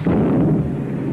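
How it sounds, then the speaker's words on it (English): A cannon firing as a radio comedy sound effect, one heavy, deep, booming blast that rumbles on for about a second, loud and close. "I must return his fire. Yes, we've had it all winter. This cannonball. All right, Eccles, fire! Fire"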